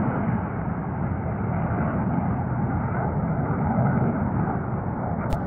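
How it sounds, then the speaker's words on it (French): Two Mirage 2000 fighter jets pass over Cholet, making a steady, continuous broadband jet roar that holds at an even loudness throughout with no voices. "on a deux magnifiques Mirage 2000 qui passent au-dessus de Cholet"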